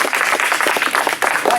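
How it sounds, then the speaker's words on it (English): A round of applause from a group of people at Bodernham Manor, fairly loud and close, with distinct individual claps in an uneven rhythm and a short dip partway through. "I'll give him a round of applause."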